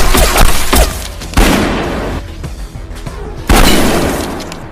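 Gunfire booms through a film shootout scene, with loud, close blasts and rapid bursts followed by echoing decays, three heavy impacts standing out among the shots.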